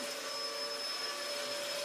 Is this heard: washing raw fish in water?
no